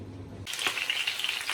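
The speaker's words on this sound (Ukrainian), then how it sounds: "Картопля смажиться, м'ясо смажиться." Potatoes with garlic and meat fry in a pan, a sudden onset of steady crackling sizzle with small pops, close and moderately loud, with no talk.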